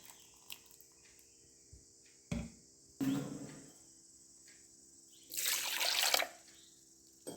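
Water splashes and pours in short bursts into raw banana dosa batter, with a longer steady pour near the end; quiet drips and clinks in between.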